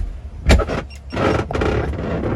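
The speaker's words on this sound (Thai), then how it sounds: "ม่านไฟฟ้าเดี๋ยวกดให้ดูนี่ะ" An electric curtain motor inside the cab of a Volvo FH 440 truck whirs in short bursts, close and fairly loud, with a click and faint rustling between runs.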